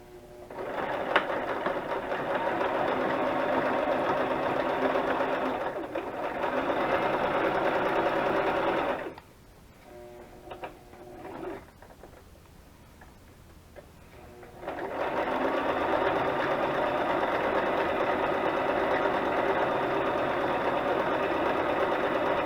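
A sewing machine zigzag stitching around the edge of a paper junk journal tag, a steady close mechanical rattle that runs for long stretches, stops briefly for a few seconds, then resumes.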